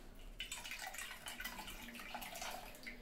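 Room-temperature water poured over fresh paneer for ras malai, a continuous soft splashing trickle, close and steady for the whole few seconds.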